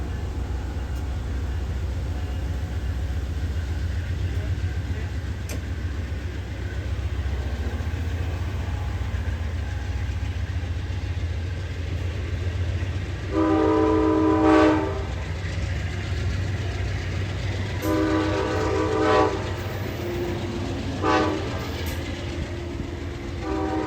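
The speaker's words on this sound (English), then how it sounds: "it was time for the train to get moving again." A CSX freight train idles with a low rumble at a milepost in Newfields, New England, then sounds several loud horn blasts in separate bursts as it begins to move.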